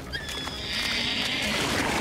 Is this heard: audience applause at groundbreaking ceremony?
no